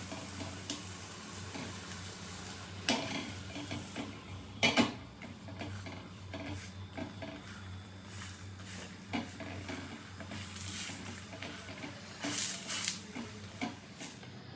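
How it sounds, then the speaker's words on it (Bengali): Sweet potato parathas frying in a pan, a quiet, steady sizzle broken by occasional scrapes and taps of a utensil against the pan, with no talk. "আমি এরকম করে সব পরোটাগুলো ভেজে নেব।"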